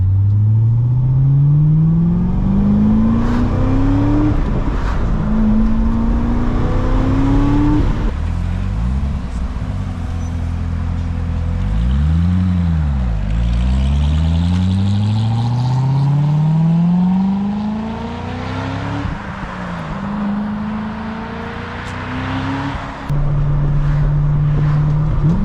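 A stock Chevrolet C6 ZR1 Corvette with active exhaust revs hard, its engine climbing and falling through repeated sweeps in loud, close blips and a sustained run-up, with no voices over it.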